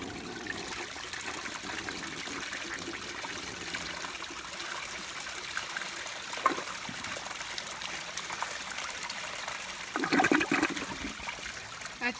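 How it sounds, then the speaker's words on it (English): Flush of a 1961 Standard Cadet toilet, a steady rushing, trickling wash of water throughout, fairly close and unaccompanied by talk, with a brief surge of gurgling near the end. "Here's one last flush of this dip."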